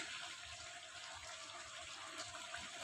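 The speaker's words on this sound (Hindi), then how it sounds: "मैं इसके अंदर तकरीबन 2 गिलास पानी डाल दूँगी।" Water is poured into a cooking pot for a korma gravy, a steady close splashing rush that continues evenly, with no talk.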